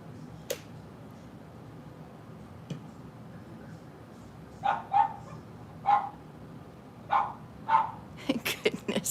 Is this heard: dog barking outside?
yes